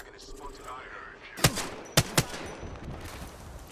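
Gunfire in the battle royale video game Apex Legends: three sharp shots, one then a quick pair, crack out at moderate distance over a low, steady game background.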